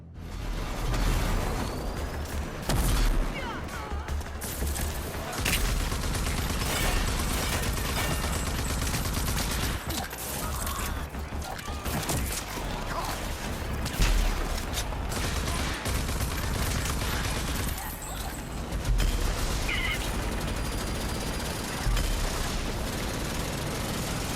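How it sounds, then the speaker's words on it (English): Dense gunfire from the first-person shooter Rage 2, sustained loud bursts and booms layered over continuous game action with no pauses. "You'll notice how the guns and shooting feel impactful."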